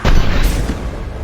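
A heavy booming blast from combat in the video game Mass Effect 2, loud and close, with a deep rumbling tail that fades over about a second.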